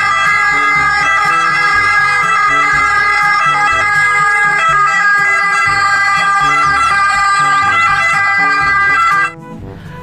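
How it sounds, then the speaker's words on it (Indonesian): A toy ambulance wails with a loud electronic siren, its warbling tones running continuously for about nine seconds before cutting off abruptly. "Yang ini ada mobil ambulans."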